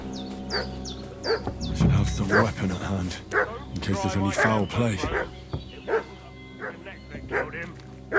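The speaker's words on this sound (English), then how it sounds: "What's that dog making such a fuss about?" A dog barks and yips repeatedly in the medieval game Kingdom Come: Deliverance II, the short sharp calls sitting under a character's spoken lines and game ambience.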